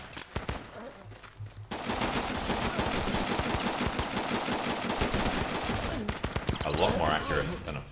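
Shotgun blasts in the game Running with Rifles, a dense, rapid run of loud close reports layered over other gunfire from about two seconds on, with sparser shots before and after.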